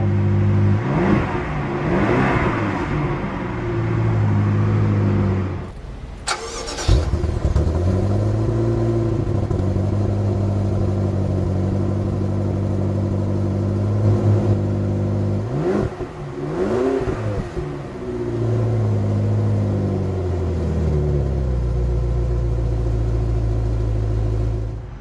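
A 2012 BMW X6 engine runs loud and close after a push-button start, holding a deep steady rumble with a short sharp break partway through and a few rising revs.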